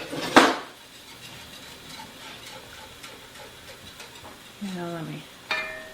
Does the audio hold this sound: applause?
no